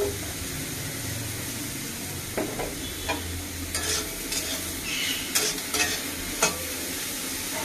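Eggplant frying in oil for nim begun sizzles steadily up close, with scraping and stirring clatters from a spatula breaking through the hiss in the second half.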